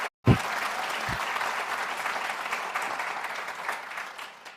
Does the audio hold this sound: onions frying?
no